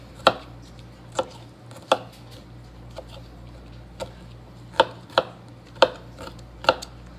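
A sharp knife chops food in separate, crisp strikes, about nine sharp knocks at an uneven pace with short pauses between them, close and clear over a quiet background.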